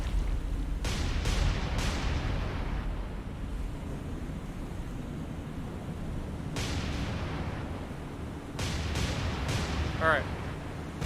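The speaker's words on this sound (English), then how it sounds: "Massive secondary explosions." Torpedo hits and secondary explosions from the naval game War on the Sea, several sharp booms over a rumbling sea and engine bed, sparse and spaced out with a brief whistle near the end.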